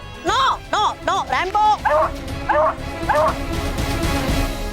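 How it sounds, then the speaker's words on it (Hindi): Several dogs bark and yip in rapid bursts, then settle into shorter whimpering yelps, close and loud, with a voice talking over the commotion. "ये श्वान मेरे सुरक्षा कवच के कारण परेशान हो रहे हैं।"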